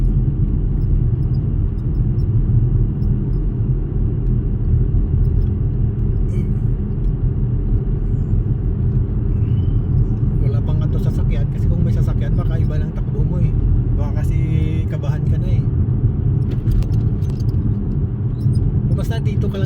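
A car's engine drones low and steady during a driving practice lesson, a constant close rumble throughout with talk over it.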